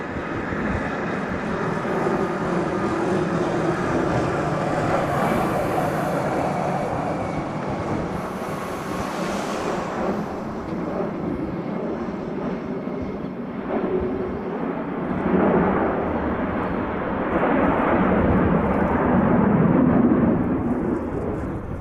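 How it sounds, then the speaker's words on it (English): A pair of F-22 fighter jets from the 199th Fighter Squadron bank overhead in Hawaii, a loud, sustained rumbling roar that swells and fades across the sky with no voices. "That fighter right there, doing a nice bank right in front of us."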